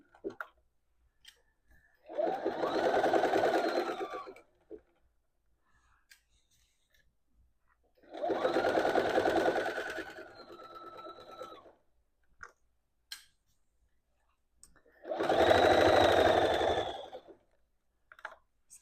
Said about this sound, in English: Just stitching along.